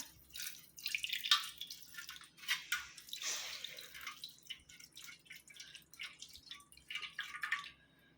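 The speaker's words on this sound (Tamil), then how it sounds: "ஸோ நான் இங்கேயே தண்ணி ஊற்றி காமிக்கிறேன்." Water pours and splashes in uneven bursts, with dripping and trickling between, close by and fairly quiet, no voices.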